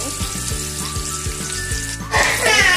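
An onion-tomato paste for egg paneer curry hits hot oil in a pan and sizzles steadily, with soft stirring taps, then flares into a louder, brighter sizzle partway through.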